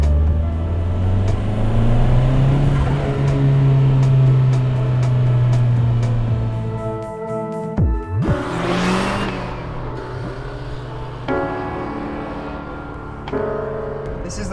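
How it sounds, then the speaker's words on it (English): A Mark 1 Toyota MR2's 1600 engine hums and revs while driving, pitch rising and falling through gear changes, with a brief whoosh midway and a voice speaking. "This is the Mark 1 MR2, and it is such a joy to drive."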